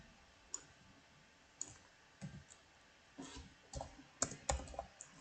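Computer keyboard keys being typed while entering a SQL query, sparse quiet clicks spaced unevenly at first, then a quicker cluster of taps near the end, with no voices.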